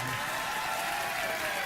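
A late-night television studio audience claps in a steady, dense burst of applause that holds evenly from start to finish.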